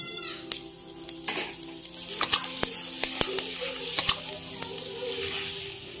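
Whole black peppercorns and cumin seeds hit hot oil in a pan with a close, steady sizzle, broken by sharp crackling pops and a few clinks of stirring.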